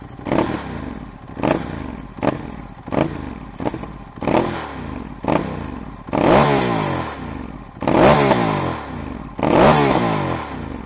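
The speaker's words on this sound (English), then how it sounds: "check out the way this motorcycle sounds" Ducati Monster 821 with stock exhaust revved repeatedly in sharp, rising blips, each followed by crackling pops on deceleration, close and loud, the bursts growing longer toward the end.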